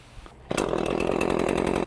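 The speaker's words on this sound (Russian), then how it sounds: "И начнем его с бензиновой пилки." A petrol chainsaw for arborist use roars into life after a brief quiet moment, then runs loud and steady at high revs, close by.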